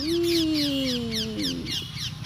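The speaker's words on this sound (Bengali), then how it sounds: "প্রচুর টিয়া পাখি, এত টিয়া পাখি আমাদের এখানে গাছে সব" Parrots call from trees at dusk in a rural home setting, a clear squawking call sliding downward over repeated chattering chirps, fairly close and loud with no voices.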